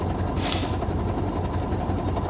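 A tractor working its way across river ice on the Indigirka gives a heavy, steady, close-up engine drone, with a short airy hiss early on.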